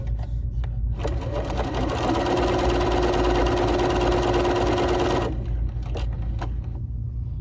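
A BERNINA 3 Series sewing machine stitches a small decorative flower, a loud, steady motor hum and quick needle chatter lasting about four seconds, framed by clicks and handling sounds before and after.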